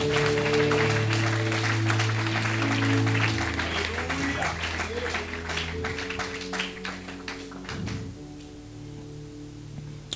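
A church congregation claps steadily through a French Easter service, the applause rhythmic and full at first, then thinning and fading, with sustained organ or keyboard chords and singing underneath.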